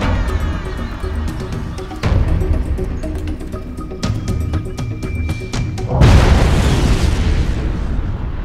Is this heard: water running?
no